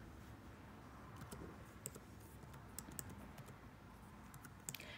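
Faint clicking from someone typing a command on a Mac keyboard, with scattered key taps over a quiet, hissy background.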